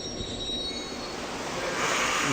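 A full-size diesel locomotive on the Saratoga & Western Railroad brakes, its steel wheels squealing in high sustained tones over a steady rumble of rolling railcars that swells toward the end.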